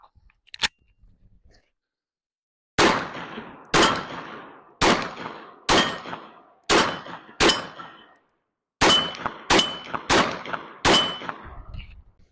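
A PSA Micro Dagger pistol fires about ten sharp, loud shots, close by and spaced roughly a second apart, with a longer pause after the first few. Each report rings out and fades quickly, with no talking.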